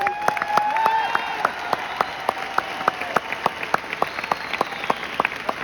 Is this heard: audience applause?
yes